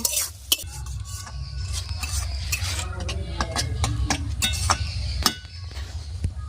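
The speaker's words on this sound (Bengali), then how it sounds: "আমি মশলার কাঁচা গন্ধ যতক্ষণ না যায় ততক্ষণ মশলা দিকে কষিয়ে নেব" Spices with chili powder being stir-fried in oil in a pan for a spicy Aila fish curry, heard as repeated close scraping and clinking stirring strokes over a low sizzle, with no talking.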